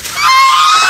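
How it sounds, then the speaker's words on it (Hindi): A female turkey at a mini zoo gives a loud, harsh, close call lasting about a second, with no talking. "सरप्राइज़ तो हम टर्की फीमेल लेकर आए हैं एक और बड़ी"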